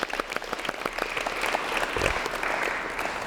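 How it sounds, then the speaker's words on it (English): An audience at a Perth app developers meetup applauds the panel guests, brisk scattered clapping from a modest crowd, fairly quiet and heard alone. "if everyone could give a round of applause to our guests"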